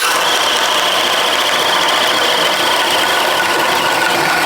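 A cordless drill in turbo mode, speed 2, bores a 1 1/2 inch hole: a loud, constant whirring grind that holds steady throughout with no pauses or speech.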